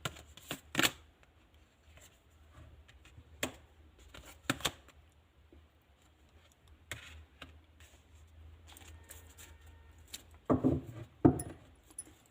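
A deck of cards being shuffled and handled: several sharp, separate riffles and snaps spread across a quiet stretch, with a faint low hum underneath.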